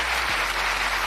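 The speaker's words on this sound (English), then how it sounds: "Look at all these women clapping." Women in an audience clapping, a dense, even burst of applause heard close and steady for a brief second.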